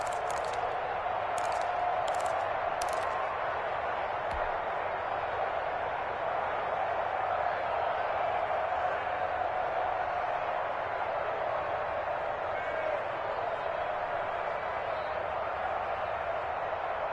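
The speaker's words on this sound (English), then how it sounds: "The crowd getting into it as we come up on a big 3rd down" Crowd noise in a Colts vs Bears football video game forms a steady, moderately loud stadium roar that rises slightly and continues throughout, with a few brief clicks near the start.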